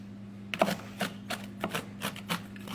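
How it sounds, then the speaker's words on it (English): Whole almonds are chopped with a knife on a board in a home kitchen: a run of crisp, close knocks at an uneven, unhurried pace, with no talk. "Okay, I'm chopping. This knife really makes it easier."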